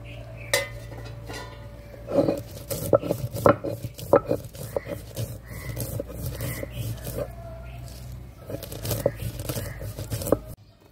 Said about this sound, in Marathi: आणि हे सगळं एकत्रच वाटून घ्यायचं।